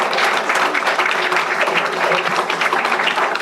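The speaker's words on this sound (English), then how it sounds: "when you can clap if you want to" Audience at a deputy fire chief swearing-in ceremony in Lakeville claps steadily, a dense, continuous burst of many hands close by.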